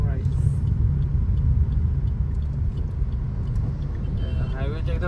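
Highway traffic rolls past right beside a roadside hotel on the Mumbai–Goa highway NH 66, a loud continuous rumble of passing vehicles with a faint air-brake hiss.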